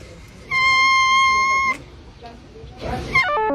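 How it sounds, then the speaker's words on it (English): A cat's meow recorded in iPhone slow motion comes out as a long, flat electronic tone. A stretched rising warble follows after a brief gap, with a voice faintly in the background. "I filmed this cat meowing in slow motion, and this is what the iPhone made it sound like."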